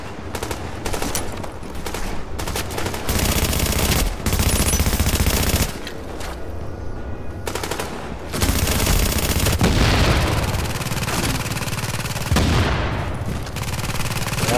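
Rapid, loud weapon fire from a grenade launcher in a video game, with dense bursts of shots and booms running almost continuously and only brief lulls between volleys.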